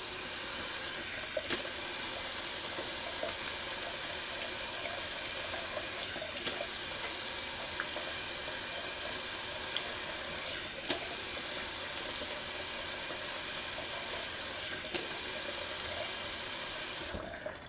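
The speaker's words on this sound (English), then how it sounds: "I'm just gonna rinse this alum off my face." A running water tap flows steadily into a sink as alum is rinsed off a freshly shaved face, with a constant close hiss of water broken by a few brief pauses and splashes of hands.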